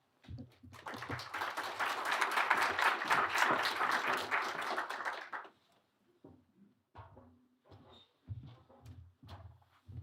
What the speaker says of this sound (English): I think we should have gotten more applause than that.